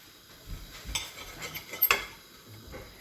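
Knife cutting toast into soldiers for dippy egg, several crisp scraping crunches at uneven intervals, close and fairly quiet.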